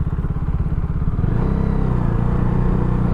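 A 2016 KTM Duke 390 motorcycle rides off-road with its engine droning steadily and close, shifting pitch slightly partway through, over a constant low rumble with no voices.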